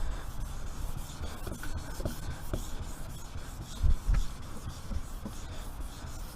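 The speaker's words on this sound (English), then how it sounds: "get some wet and dry 1200 and just very lightly give it a good" Fine 1200-grit wet and dry paper lightly rubs the paintwork of an old Rover Metro 100, a close, continuous soft scratchy rasp with a couple of brief louder scuffs.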